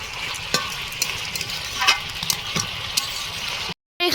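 Mutton being stir-fried in a pan, with a constant close sizzle under scattered scraping strokes of a spoon, then a brief silent gap near the end.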